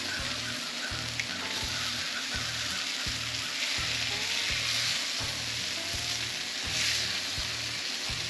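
Butterflied, brined and rubbed chicken legs sizzle steadily on a hot griddle just after being flipped, a loud continuous frying hiss with no talk over it.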